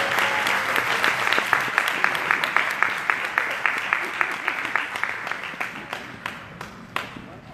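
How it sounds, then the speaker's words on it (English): Audience applauding the owner of a fitness center and her team at a monthly meeting: a steady patter of many hands clapping for several seconds, gradually thinning toward the end. "Y'all give a round of applause"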